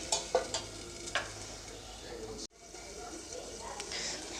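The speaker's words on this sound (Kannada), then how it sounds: "ಇವಾಗ ಇದನ್ನ ಒಂದು ಐದು ನಿಮಿಷ ಚೆನ್ನಾಗಿ" Radish sambar with tomato simmers in a pot while being stirred. A few sharp scraping clicks come early, then a soft steady bubbling hiss, with talking over it.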